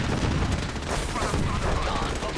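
Turrets fire continuously in the video game Fallout 4, a dense, unbroken rattle of gunfire that stays loud and close throughout, with game noise mixed in.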